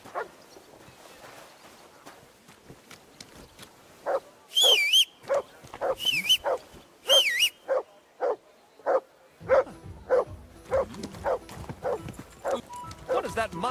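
A dog barks repeatedly in short sharp yelps alongside a steady clip-clop of horse hooves, with game sound effects over a quiet backdrop, in Kingdom Come: Deliverance II.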